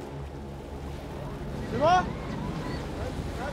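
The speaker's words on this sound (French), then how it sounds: "y'a un max de vent, attends. Ouais, y'a les vagues." Strong wind buffets the microphone on a sailing boat at sea, with a steady roar of wind and waves washing throughout; someone speaks briefly in the middle.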